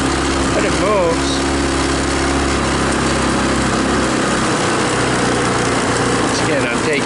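A Tao Tao Bull 150 ATV, once abandoned at a repair shop, runs while being ridden, its small engine droning loud and steady under heavy wind buffeting, with a voice talking over it.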